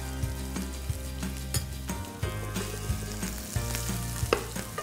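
Chopped onions fry in a hot pan with a steady crackling sizzle, while recurring low-pitched tonal tones and sharp clicks of utensil contact run underneath, moderately loud and close.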